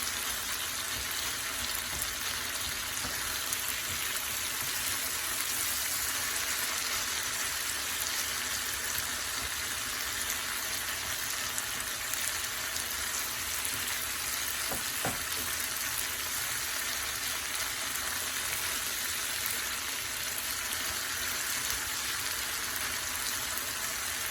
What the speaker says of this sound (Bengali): পেঁয়াজটা কিন্তু নাড়তে নাড়তেই পুরোটা খুলে যাবে।